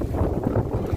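Wind blows outdoors in gusty, low buffets against the microphone, a rumbling, uneven roar lasting about a second with no voices.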